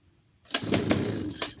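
A chainsaw starts on a single pull and catches with a sudden loud pop, followed by a short rough sputter with a few sharp bursts that fade after about a second, heard up close.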